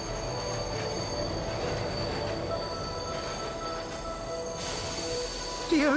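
Train pulling into a station in the Bright Paw video game, a steady rumbling roll with faint metallic wheel squeal building near the end, loud and continuous with no talk.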